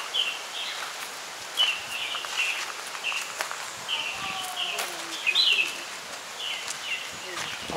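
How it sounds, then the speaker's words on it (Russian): Mauritian parrots in an aviary at La Vanille park in Mauritius give repeated shrill calls and chirps at a moderate distance, with footsteps and rustling in the background. "попугаи."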